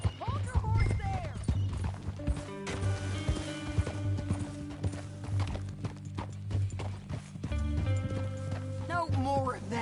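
Horse hooves clip-clopping in a steady running rhythm in Red Dead Redemption 2, close and continuous beneath a game character's talking voice and background music.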